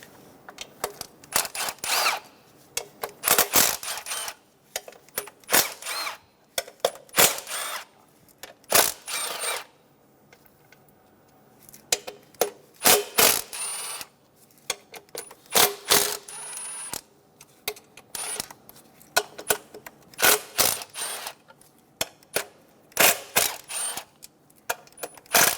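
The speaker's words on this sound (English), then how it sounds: "Using a 10mm socket, remove all 12 fasteners for the Plenum cover." A 10mm socket on a ratchet loosens the plenum cover fasteners on a 2003-2007 Honda Accord 3.0L V6, with repeated bursts of rapid metallic clicking separated by short pauses, close and fairly quiet.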